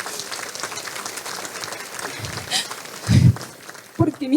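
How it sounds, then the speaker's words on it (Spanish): Church congregation breaking into applause, a diffuse wash of clapping with a couple of louder bursts toward the end, under faint background murmur. "Se merece un aplauso nuestro Dios."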